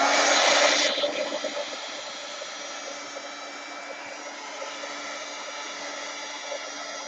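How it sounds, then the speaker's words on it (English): A handheld heat tool blows over a paper collage page, a loud rushing hiss that drops after the first second into a steadier, softer whoosh that runs on evenly with no talk. "I'm going to dry this a little bit up here."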